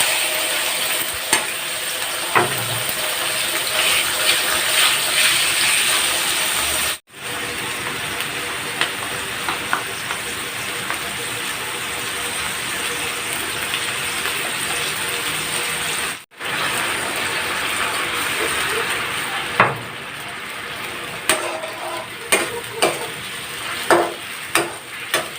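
Chicken frying in a pan for chicken broccoli in oyster sauce, a steady loud sizzle with brief clicks and scraping stirs, interrupted by two short cuts to near silence.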